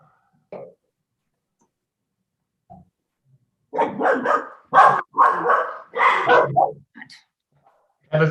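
A dog barks in a rapid burst of loud, close barks after a few faint sounds, heard during an online group call.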